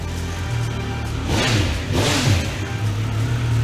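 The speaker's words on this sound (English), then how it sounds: "we've got even more of that triple bark from the 1200 RS" Triumph Speed Triple 1200 RS motorcycle with its triple-cylinder engine, revving hard in a couple of rising bursts over a steady idle, loud and close with no talking.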